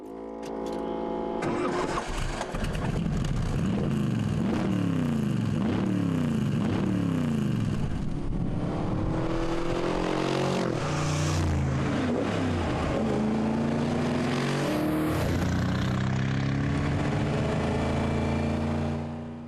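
A Bizzarrini's big V8 engine cranks, catches and revs hard, its deep throaty roar rising and falling in repeated blips before settling into a loud, rumbling idle.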